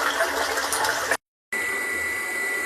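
Water pours steadily through a homemade filter into a drum, a continuous rushing, hissing flow broken by a short gap of silence partway through.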